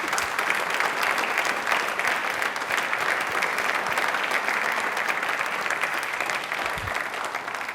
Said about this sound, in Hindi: तालियां बजा दीजिए एक बार जोरदार वाली।